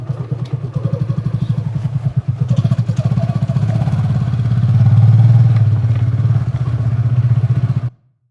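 A motorcycle ridden up close, its engine thumping in a loud, steady rapid rhythm that swells briefly midway before cutting off abruptly near the end.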